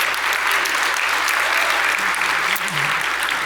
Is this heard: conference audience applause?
yes